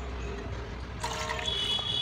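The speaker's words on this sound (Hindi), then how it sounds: "मैं और 1 कप पानी डाल रही हूँ" Water poured from a cup into a pressure cooker of soaked broken wheat, a close, soft trickle that starts about halfway in and keeps running to the end over a low background hum.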